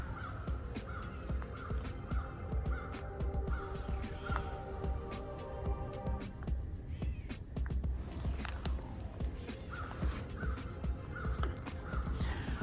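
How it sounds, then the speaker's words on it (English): Crows caw repeatedly outdoors on the Florida Trail between Marshall Swamp and Ocala, harsh calls rising and falling over a steady background hum of open air, with several birds answering one another. "Can all hear the birds out there somewhere."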